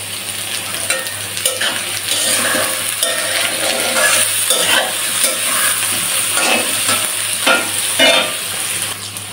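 Chickpea dal, chicken feet, onion and green chili fry in cumin-tempered oil with a loud, continuous sizzle and repeated scraping strokes of stirring throughout.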